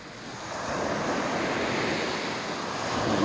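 Ocean waves washing onto the shore in a steady, rising roar, with wind buffeting the microphone; no voices.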